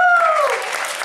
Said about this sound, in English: Give Kathy a round of applause